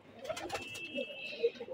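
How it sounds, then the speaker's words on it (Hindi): A freshly caught female pigeon with a black beak gives soft, low coos, a few short murmuring notes close by and quiet, with no voices over them. "देखो ये कबूतर पकड़ा है,"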